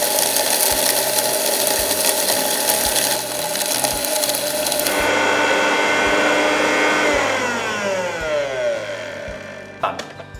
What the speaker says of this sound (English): For this recipe, I will be using the preset dry and I will be grinding it to semi-fine.